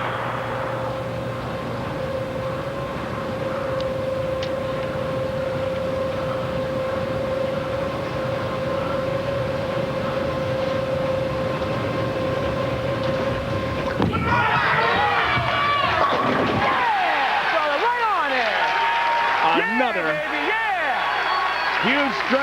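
A bowling strike at the 2006 PBA Motor City Classic in Taylor, with steady arena hum and a commentator talking, then a loud, broad swell of crowd cheering and applause that carries through the end.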